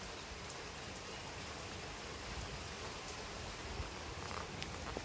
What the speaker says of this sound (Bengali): থামছেই না, কেমন বৃষ্টি।